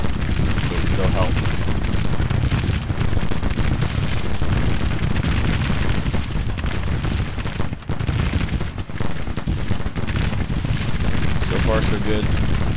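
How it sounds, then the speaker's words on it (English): Civil War 6-pounder field guns in Grand Tactician keep up a dense, continuous barrage, booms and rumbling volleys overlapping loudly throughout, with a voice talking underneath. "these are only a 6-pounder field gun, but they'll help"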